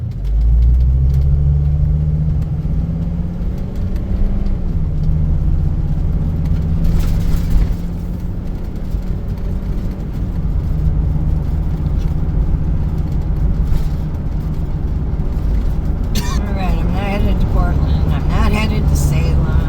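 An RV cruises along US 101 on the Oregon coast, its engine and road noise forming a loud, steady low rumble throughout, with a person talking over the drive.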